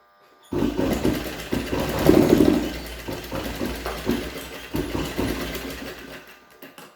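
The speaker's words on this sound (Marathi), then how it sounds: "दोन्ही बाजूला आपण अशाच पद्धतीने टिप मारून घेणार आहे" Close domestic sewing machine stitching along the edges of a cotton cloth mask, a steady whirring hum with a needle rattle that rises and dips in short bursts as the cloth is fed through.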